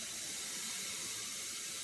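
Water running steadily into the reservoir of an OXO On Barista Brain 9-cup coffee maker, a soft continuous hiss and splash heard close and alone.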